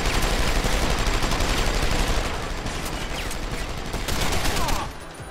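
Sustained enemy gunfire in the video game Deus Ex: Human Revolution, a dense rapid crackle of automatic shots that stays loud and continuous before easing off at the end.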